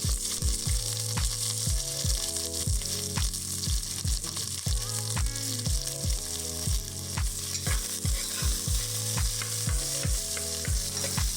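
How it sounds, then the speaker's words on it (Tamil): Sliced onions frying in ghee with bay leaf, cinnamon, cloves and cardamom for turkey biryani, a steady close sizzle with repeated regular stirring scrapes and clinks of a ladle throughout, no voices. "வெங்காயம் நல்லா ப்ரௌன் கலர் ஆகிற வரைக்கும் நல்லா ஃப்ரை பண்ணிடலாம்"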